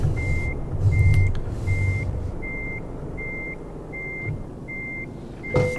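A Volvo truck in the Euro Truck Simulator 2 video game backs onto a trailer, its reversing alarm sounding eight or nine evenly spaced, steady electronic beeps over a low engine rumble, with no talking.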